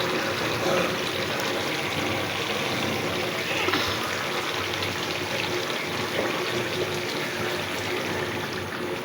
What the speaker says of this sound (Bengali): এবারেতে হালকা করে পানি দেব।